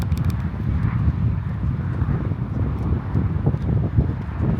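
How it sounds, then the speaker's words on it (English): Strong wind buffeting the microphone beside a small lighthouse on Prince Edward Island by the ocean, a loud continuous low rumble with gusty surges throughout. "it's quite windy here. You can probably hear it on the camera"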